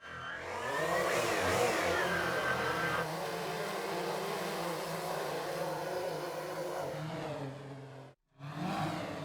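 A small quadcopter engine whirs up to a steady high-pitched drone, holding for several seconds before cutting out briefly and starting again.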